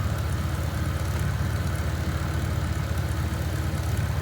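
A small aircraft engine idles at 1,000 rpm after its run-up, giving a steady, even low drone with a fast throbbing pulse and no voices.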